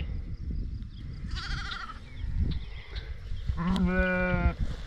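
Two sheep bleats sound over a low outdoor rumble, the first short and wavering, the second longer and louder.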